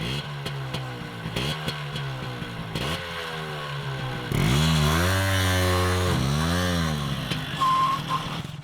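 A car engine revs repeatedly after its carburetor has been repaired, rising and falling in loud, close bursts that swell to a long sustained rev, with faint clatter between pulls.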